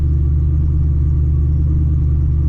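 A 2004 Mystichrome Terminator Cobra with a built motor running on E85 idles nearby in a steady, deep rumble with a lumpy low pulse, constant throughout and alone without voices.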